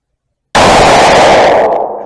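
A single loud, close 6x47 Lapua rifle shot from a custom barrel cracks out of silence, followed by a short decaying boom.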